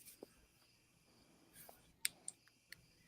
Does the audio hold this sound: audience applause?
no